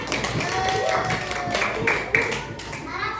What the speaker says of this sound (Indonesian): Tepuk tangan untuk Nur.